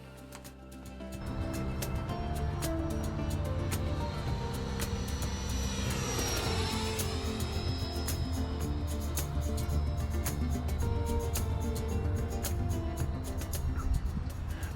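A Freewing F/A-18 Super Hornet RC jet at roughly 70-75% throttle roars steadily through the whole pass, its electric ducted-fan whine sweeping in pitch as the plane flies by and then away.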